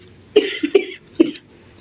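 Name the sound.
cough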